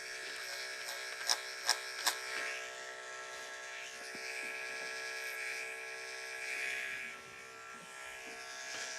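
An electric hair clipper buzzes steadily while cutting textured hair over a plastic clipper comb during a boy's haircut, a close, continuous whirring drone with a few sharp clicks near the start and slight swells in pitch.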